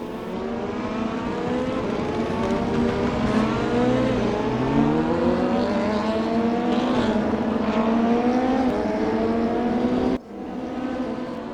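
A DTM 2020 race car engine howls in the RaceRoom racing game, loud and close, revving up through repeated gear changes in a rising, falling pattern, with a sharp drop and cut near the end.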